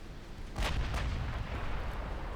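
A 3-inch naval gun fires in a video game, a single dull boom that rises out of a steady low rumble of background noise and then fades slowly.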